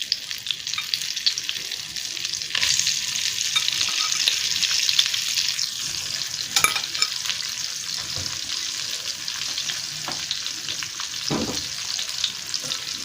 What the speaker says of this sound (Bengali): এবার ফুলকপিগুলো দিয়ে দিলাম।